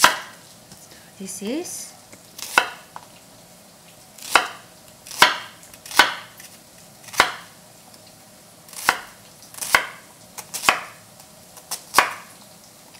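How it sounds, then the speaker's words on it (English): A knife chops green onion, green chili pepper and onion on a board for Korean-style mapo tofu, with about a dozen sharp, close, evenly spaced cuts and a brief spoken remark early on. "So now I cut off this just a ½ inch long green onion and green chili pepper, and onion"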